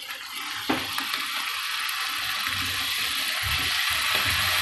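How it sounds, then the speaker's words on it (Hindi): Water splashes into a pan of sizzling masala and minced meat for Pakistani aloo keema, a sudden pour followed by a steady hissing sizzle with soft stirring thuds, close up and without talk. "मसाला भूनने के लिए से हम इसमें थोड़ा सा पानी ऐड करना है ताकि मसाला अच्छे से भून जाए।"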